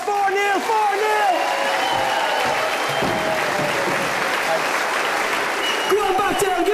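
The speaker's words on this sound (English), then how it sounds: "Ladies and gentlemen, give a round of applause." A comedy show audience in Dublin applauds steadily, dense clapping filling the whole stretch at close range, with a voice talking over it at the start and end.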